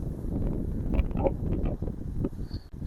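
Strong, steady wind buffets the microphone on a golf course in Sharm el Sheikh, a continuous low roar that gusts now and then and masks any other sound.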